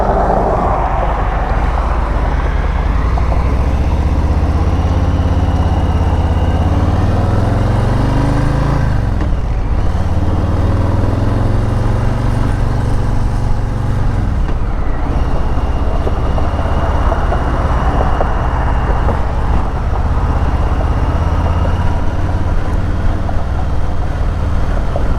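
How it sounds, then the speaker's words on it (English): A Harley-Davidson Low Rider S rumbles through its exhaust, a continuous loud, deep drone heard close up, with two dips and surges in pitch as the rider shifts or eases off while riding. "now we got the Lowrider S, and this exhaust I think is worse than the Street 500"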